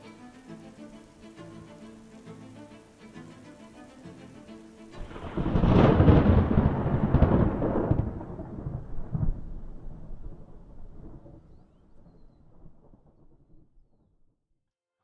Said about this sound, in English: it rained all night long